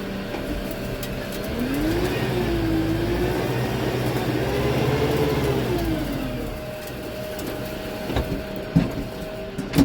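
A brand-new tractor moving forward in second gear through mud, with a steady mid-pitched engine drone that rises and falls gently in pitch, then eases off near the end before a few sharp knocks, with no talking.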